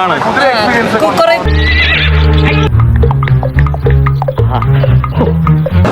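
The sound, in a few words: horses neighing and galloping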